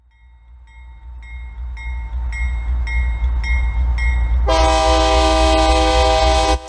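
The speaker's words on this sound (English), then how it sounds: "The train groans through a tunnel," A train rumbles steadily through a tunnel, with a deep continuous roar that builds in loudness, short repeated horn-like tones over it, and a sudden bright, harsh blast of screeching noise near the end.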